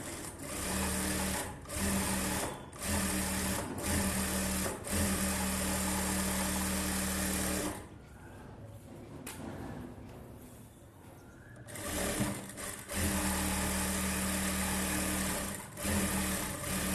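A sewing machine runs a line of edge stitching on a blouse with an Aari-work front, buzzing in steady close bursts that stop for a few seconds of quiet fabric handling, then start again.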